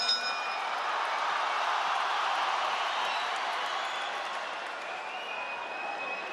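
A boxing arena crowd applauds a returning fighter, steady broadband clapping and cheering that holds at an even, loud level throughout with no talk.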